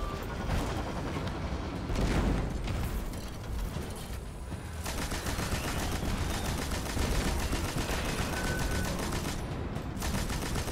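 Rapid bursts of gunfire in the video game Destiny 2 crackle through most of the stretch, with mechanical clicks and clatter between volleys, loud and close, no voices.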